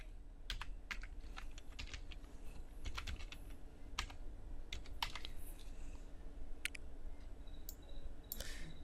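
Irregular clicking keystrokes on a computer keyboard, close and moderately loud, typing in short bursts with brief pauses and no speech.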